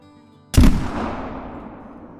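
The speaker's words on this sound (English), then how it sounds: "Let's actually use the muzzleloader on this one." A single muzzleloader rifle shot in a hunting video game, one sudden loud blast that rolls off in a long echoing tail.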